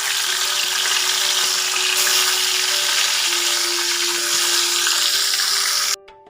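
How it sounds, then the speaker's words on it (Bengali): Parshe fish fry in hot oil with a loud, continuous crackling sizzle and a faint steady hum, cutting off abruptly near the end. "আরও কিছু মাছ ভেজে নিচ্ছি।"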